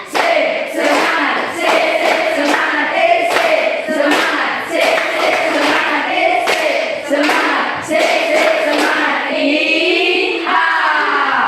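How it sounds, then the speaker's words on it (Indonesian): A classroom group performs the tepuk semangat cheer, sharp rhythmic claps in repeated counted bursts, loud and close, with chanting voices between and over the clapping. "1 kali tepuk semangat. 2 kali tepuk semangat. 3 kali tepuk semangat."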